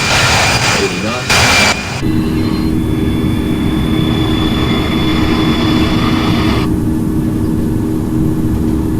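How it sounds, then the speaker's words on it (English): Jet airliner engines at takeoff thrust in the flight simulator Infinite Flight make a loud, sustained roar with a steady whine. A voice speaks at the start, and some tonal layers drop away partway through. "Takeoff thrust set."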